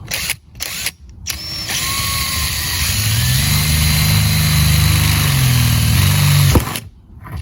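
A power drill whirs steadily for several seconds at close range, drilling through a bus roof, its motor pitch rising then holding, with short clicks and pauses before and after.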